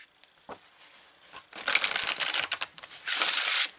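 Tarot cards shuffled and handled by hand, giving bursts of dense papery riffling and flicking, a light tap early on, then two loud sustained shuffles close by with a short pause between them.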